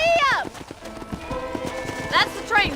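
Horse hooves galloping in Red Dead Redemption, a quick steady clip-clop under a voice, with whistle-like chirps near the start and end.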